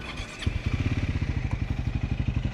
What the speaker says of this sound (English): Hopefully you can hear the engine sound from the microphone.